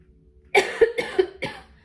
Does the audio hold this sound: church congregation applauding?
no